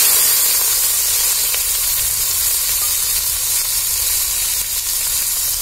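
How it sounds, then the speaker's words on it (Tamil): Onion, cinnamon and fennel seeds sizzle in hot oil in a pan for a country chicken rasam, a steady loud bright hiss with crackling throughout and no voices. "எண்ணெய் சூடாயிடுச்சு. பட்டை பெருஞ்சீரகம்லாம் வந்து போட்டுக்கிறேன். வெங்காயம் போட்டுக்கிறேன்."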